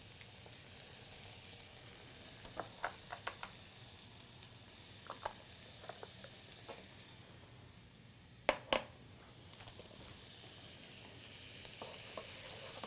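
Minced garlic hits a pan for a spinach filo pie and fries, giving a steady, fairly quiet sizzle with scattered crackles and a few utensil clicks throughout, and nobody talks over it.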